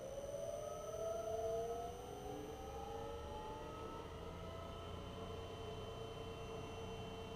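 A motor with a heavy flywheel, run from an Omron 3G3JX-AE004 drive, spins up with a steady hum and whine whose pitch climbs smoothly as it gains speed, then settles at constant speed; no one speaks.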